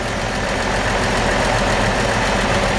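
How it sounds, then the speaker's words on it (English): A small 1964 Chevrolet C-10 pickup engine idles steadily and smoothly, a continuous low rumble with a faint mechanical knock, close by and with no voices. "Nice sound, smooth sounding little engine."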